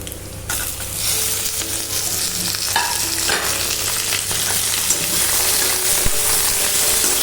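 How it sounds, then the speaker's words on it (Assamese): Broiler chicken pieces fried with onions in a pan, loud continuous sizzling with repeated stirring scrapes throughout and one sharp clink near the end; no voices. "চিকেনখিনি দি মই ভালদৰে লৰাই লৈছো"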